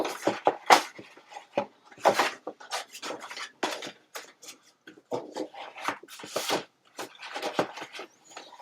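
Paper being burnished down to form a craft pocket: quick, close scratchy rubbing and scraping strokes in irregular bursts, soft and dry, with no voices.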